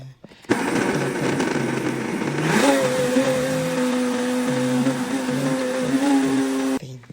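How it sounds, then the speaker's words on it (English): A kitchen blender runs steadily and loudly for several seconds, its motor pitch rising as it blends ingredients for moimoi, then holding a sustained whine until it cuts off. "that is my blender"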